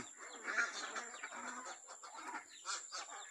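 Chickens in a poultry house coop cluck and chatter faintly and intermittently, with several birds overlapping in soft, uneven bursts and no talking.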